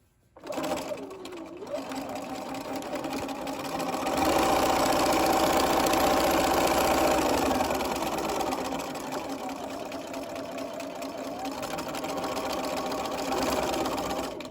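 Sewing machine back stitching the seam of a washable fabric face mask with a half-inch seam allowance, a continuous rapid mechanical whirr that speeds up and slows, close and loud throughout.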